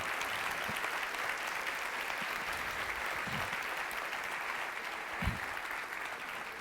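Loud, continuous applause from a church congregation clapping harder, a thick steady roar of hands with a few low thumps scattered through it.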